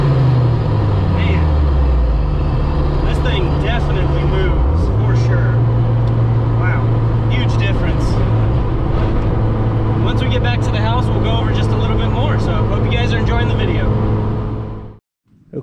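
A K-swapped truck running a Honda K20A3 engine, driving on the road, with a steady engine drone whose pitch rises and shifts through gear changes, loud and close throughout before cutting off at the end.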